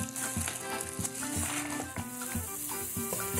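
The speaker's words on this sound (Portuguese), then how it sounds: "Comecei agora a fritar o alho com a semente de coentro e o sal" Garlic frying in a pan with coriander seed and salt for chicken with okra, a steady close sizzle with stirring and utensil scrapes throughout, no talking.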